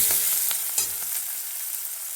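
Onions sizzle steadily in hot oil in a pan, a bright continuous hiss with a few soft crackles and stirring knocks.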